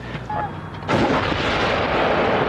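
Artillery fire near Damour, Lebanon: a heavy boom bursts in after a brief lull and rolls into a long, loud rumbling wash that fills the rest of the moment.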